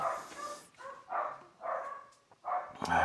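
Dogs bark indoors from a short distance, several moderate barks in an irregular series with quiet gaps between them.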